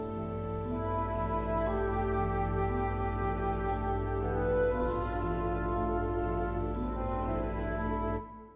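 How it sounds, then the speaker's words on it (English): Playback of a composed music project with sustained pipe organ chords and string parts, a dense continuous blend held steadily throughout before cutting off at the end. "Which includes these wonderful string parts"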